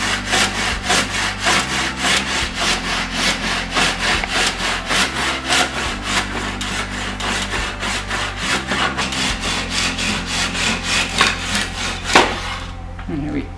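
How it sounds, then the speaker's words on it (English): Hand saw cutting a sliver off a piece of wood during an upcycling project, a steady back-and-forth rasping rhythm of strokes, close and loud, running continuously throughout. "I think if we remove most of it with the saw first"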